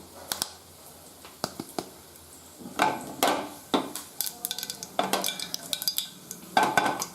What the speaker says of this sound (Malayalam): എണ്ണ ചൂടായി. അതിൻ്റെ അകത്തേക്ക് കടുക്,